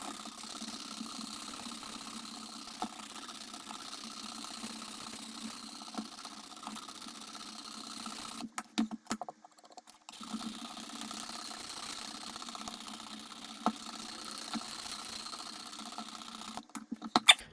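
A Work Sharp powered sharpener with a 100 grit belt grinding a knife edge, a steady faint motor whir with a brief break midway, then resuming, no talking.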